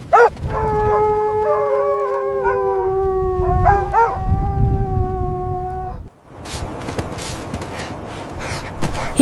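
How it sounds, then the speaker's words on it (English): Dogs giving chase, with a long, drawn-out canine howl followed by a rough burst of noisy, scrambling commotion, loud and close. "some dogs notice him for a distance and start chasing him"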